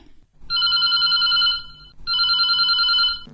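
A telephone rings twice for a caller on a farmers' radio phone-in programme, with loud, close electronic rings separated by a short pause.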